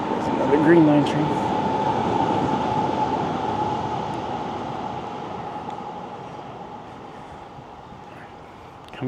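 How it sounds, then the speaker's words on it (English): A Green Line light rail train rumbles steadily past nearby on the Somerville Community Path, a broad continuous roar that slowly fades over several seconds, with faint voices mixed underneath. "There's another Green Line train."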